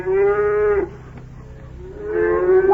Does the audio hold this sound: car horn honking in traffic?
no